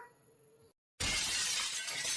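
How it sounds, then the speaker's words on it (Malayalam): A sudden crash of cups and dishes falling and shattering, loud and close, with scattered breaking fragments ringing on briefly after a moment of silence, in an animated cartoon. "പാത്രങ്ങളൊക്കെ മുഴുവൻ താഴെ വീണല്ലോ."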